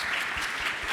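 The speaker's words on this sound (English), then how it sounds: "Let's give a round of applause to the Web3 ATL team." Audience applause at a Web3 conference in Atlanta, a steady dense wash of clapping filling the whole second with no voices over it.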